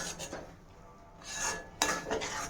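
A utensil scrapes and stirs thick puran filling in a pan, giving intermittent clinking, rasping strokes with brief pauses between them and no talking.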